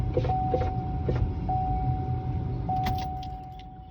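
Steady broadband street traffic noise drifts in through an opened window, a continuous low rumble with a few brief clicks and jangles near the start, and no talking.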